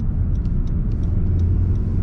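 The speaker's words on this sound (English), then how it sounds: "I just had a car pull out on me" Car engine rumbles steadily in the background as a car pulls out on the road in front of the driver, a low continuous hum with faint higher ticks, no voices.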